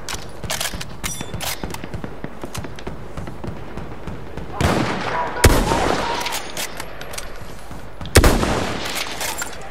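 Battlefield 1 gameplay, a steady clatter of gunfire and mechanical effects with two sharper, louder bursts of shots, mixed with in-game background noise.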